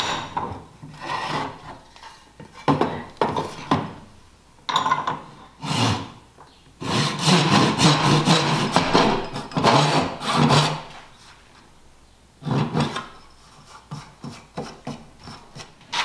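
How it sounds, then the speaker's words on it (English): A hand crosscut saw cuts through wood while dovetails are hand-cut for a built-in bench seat, with repeated rasping strokes in uneven bursts, close and fairly loud, and no talking. "Use my crosscut saw."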